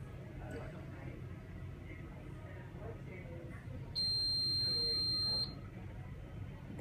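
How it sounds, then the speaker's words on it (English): A single loud, steady electronic beep sounds for about a second and a half to signal someone entering through a door, cutting sharply over a busy room with ongoing chatter. "That loud beep."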